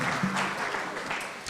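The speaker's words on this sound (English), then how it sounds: "Can we give them a round of applause," A short burst of audience applause, many hands clapping together in a dense, even patter.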